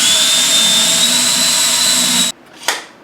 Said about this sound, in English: and then we're going to join them with a screw.